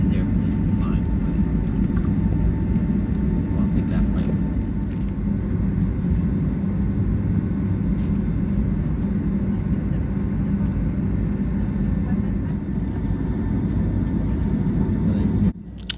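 Delta Boeing 757-200 airliner taxiing and taking off on runway 10 at St. Maarten beside Maho Beach, a loud, steady low engine roar filling the cabin without letup before dropping away at the very end.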